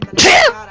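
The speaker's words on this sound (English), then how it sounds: "Was that was a sneeze?" A single sharp sneeze, close and loud, with a short voiced burst that trails off, preceded by a brief spoken phrase.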